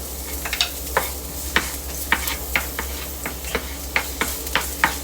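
Garlic sizzles in a hot pan while being stirred for Filipino beef steak, with a steady frying hiss broken by sharp, regular scraping stirs close by.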